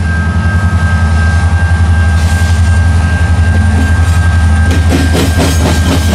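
Freight train hauled by ex-BNSF CN AC44C6M locomotives rolling past close by, a loud steady rumble with deep engine drone and rhythmic wheel clatter building toward the end.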